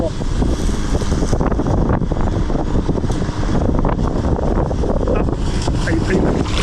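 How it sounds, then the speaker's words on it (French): Strong wind buffets the microphone outdoors by the water, a constant loud roar with gusty swells throughout and no speech. "Ce qui m'embête, c'est le vent."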